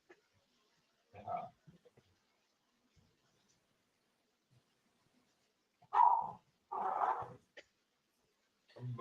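A dog, one of the household puppies, gives a few short yelping barks in the background, separated by long quiet gaps and fairly faint.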